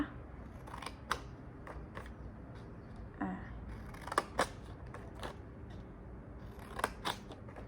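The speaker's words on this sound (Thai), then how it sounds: "หนูก็จะตัดมุมกระดาษของแต่ละด้านนะคะลูก" Scissors snip the corners off a sheet of paper, a few quiet, scattered crisp cuts over a soft, steady background hiss with no talk.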